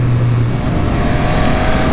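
A 2022 Triumph Speed Triple 1200 motorcycle with an ECU flash tune accelerates. Its engine note is loud, close and steady, a continuous drone with no talk over it.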